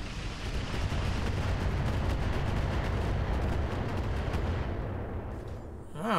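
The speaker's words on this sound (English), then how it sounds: "Here comes the missiles." A Roguetech missile barrage slams into mechs as a steady, dense roar of rapid impacts and explosions, sustained for several seconds before tapering off, with a brief electronic sweep at the very end.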